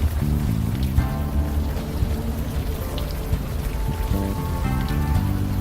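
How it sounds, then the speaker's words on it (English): Steady rain falling in a video game scene, a continuous hiss of drops on surfaces layered under a low tonal music bed, no voices. "Still raining."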